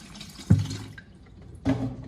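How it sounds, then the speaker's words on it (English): Cold water is poured over boiled eggs in a pot in a home kitchen in Barbados, giving two brief, close watery splashes about a second apart over faint background hiss. "Putting in the cold water now."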